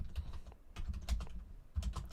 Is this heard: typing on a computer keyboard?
yes